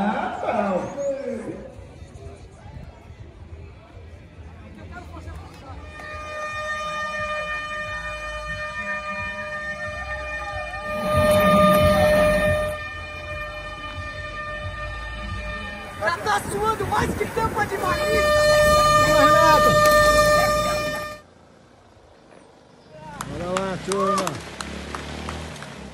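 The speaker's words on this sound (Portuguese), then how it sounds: "Toque de corneta." A horn or siren call signalling the start of a motorbike race sounds as sustained tonal blasts in several bursts, loud and close, amid crowd noise, engine noise and people talking.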